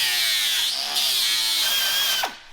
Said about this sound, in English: I'm just gonna grind those rivets off.